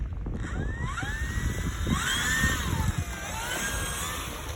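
A small airplane's engine drones steadily with a rising, wavering tone and a constant high whine, heard from inside the aircraft with no talking.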